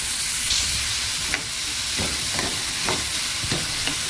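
Chopped onion sautéing in oil in a pan, a steady close sizzle with occasional scraping stirs, no voices.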